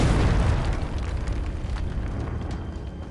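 An explosion spell in a video game played on PS4 goes off as a loud, deep boom at the start, then settles into a rumbling, crackling blast that fades slowly over a few seconds, with no talk.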